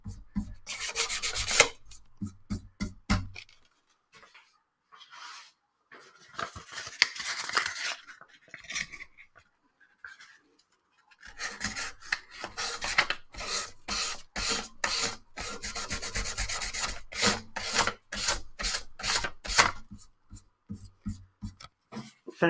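A bone guitar nut for a vintage classical guitar is rubbed back and forth on sandpaper through progressively finer grits, bursts of rapid scratchy strokes with pauses between sets, close and moderately loud, no talking.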